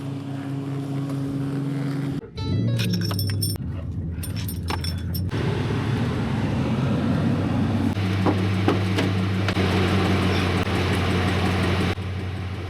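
A cheap motorcycle fitted with a 72V electric conversion kit rides along with a steady electric whine and droning hum, broken early by rattling clatter and joined by strong wind noise.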